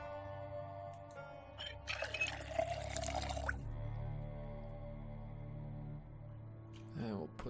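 A pouring splash from a watering can as water goes onto garden plants in the Project Zomboid survival game, a clear, busy burst of about a second and a half, then quieter game ambience with drips.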